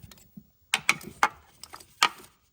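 A 10mm wrench works a bolt loose under a 2012 Nissan Frontier with a 4.0L engine, giving a few sharp, close metallic ratcheting clicks spaced irregularly over a couple of seconds in otherwise quiet surroundings.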